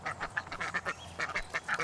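Repeated goose or duck honks and quacks in quick bursts, about a dozen calls over a couple of seconds, fairly close and clear with no talking.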